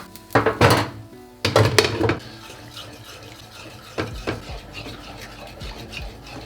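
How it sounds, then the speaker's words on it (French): A spoon stirs shallots in a pan, giving two loud bursts of scraping and clatter close by, then quieter clinks and a low background hiss. No one speaks. "Vous remuez les échalotes."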